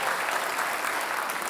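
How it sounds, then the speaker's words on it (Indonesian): Studio audience at an Indonesian televised debate for the Jakarta governor election gives steady, dense applause for the two candidates, continuous clapping at moderate level throughout. "Saya ingin kita kasih tepuk tangan untuk kedua kandidat yang hadir Mata Najwa di malam hari ini."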